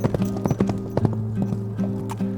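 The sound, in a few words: horse hooves clip-clopping, radio theatre effect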